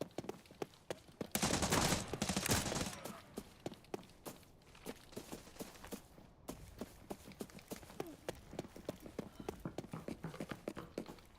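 Footsteps in the Arena Breakout shooter game tap in a steady, close rhythm throughout, with a louder burst of noise early on and no talk.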